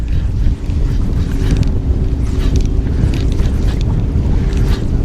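A two-stroke outboard motor drives a bass fishing boat on Lake Chickamauga, producing a steady, low droning hum with gusty wind noise over it throughout.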